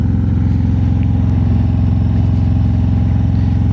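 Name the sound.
motorcycle engine while riding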